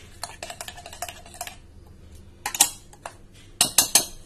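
A spoon clinks and scrapes against a metal bowl while chutney is mixed with lemon juice, coming in quick bursts of sharp, bright taps with short pauses between them.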